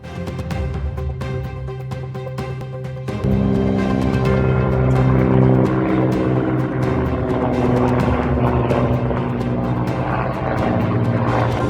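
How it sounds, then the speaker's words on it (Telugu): An Army Mi-17 helicopter flies over the mountains at Kedarnath while airlifting a damaged helicopter. Its loud, steady rotor and engine drone swells noticeably after a few seconds and keeps droning throughout. "కేదార్నాథ్లో ఇటీవలే దెబ్బతిన్న హెలికాప్టర్ను తరలించేందుకు ఆర్మీ ఎంఐ పదిహేడు చాపర్ తెప్పించారు"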